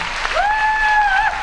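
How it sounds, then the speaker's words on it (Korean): An audience applauds after a singer's stage performance on a televised show, a steady wash of clapping with a long, bright whistle ringing out over it. "청중들도 열화와 같은 박수로 보답을 합니다"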